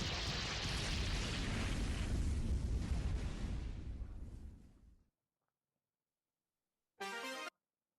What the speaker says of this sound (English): But then the explosion just to make sure he is dead.